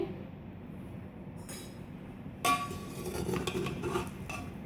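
A spoon scrapes and clinks against a pot while cooked chicken student biryani is mixed, starting quiet, then a sharp metal knock followed by steady stirring and scraping.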